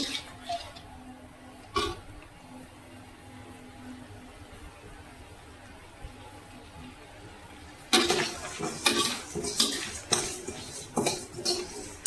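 Sukto being stirred in a pan, quiet scraping at first and then a busy run of metallic clinks and scrapes of a utensil against the pan in the second half, with little talk.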